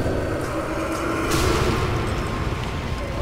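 A grenade goes off in the dark zombie shooter Nazi Zombie Army 2, a dense, rumbling burst that swells midway and stays loud over a steady noisy game background.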